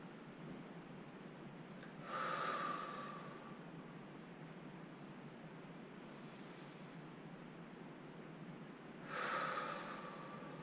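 Two soft, breathy exhalations about seven seconds apart during a gentle upper-body mobility exercise, faint and close against a steady hiss of background noise, with no talking.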